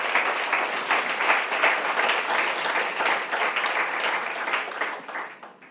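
A church congregation bursts into dense, sustained applause close by, many hands clapping steadily before tapering off at the end, with no one speaking over it.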